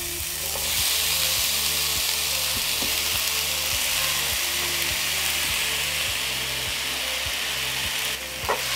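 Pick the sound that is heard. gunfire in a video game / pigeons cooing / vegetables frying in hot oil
vegetables frying in hot oil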